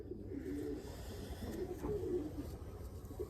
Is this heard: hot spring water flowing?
no